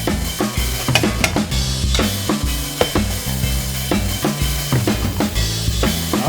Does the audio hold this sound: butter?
yes